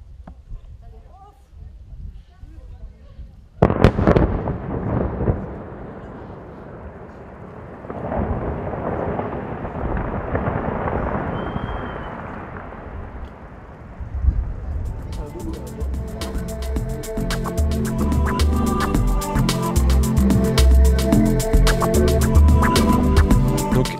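A sudden loud boom of a rock-blasting explosion on a cliff breaks a quiet scene, followed by a long rumbling roar of falling debris that builds into heavy, sustained crashing noise.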